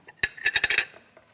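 A spoon stirs and clinks against a bowl of spicy gochujang seasoning sauce with minced garlic and corn syrup, giving about six quick, close metallic taps in a rhythmic burst that then fades out.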